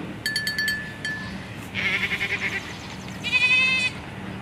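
Several goats bleat in turn, loud and close, each call a wavering nasal cry separated by short pauses.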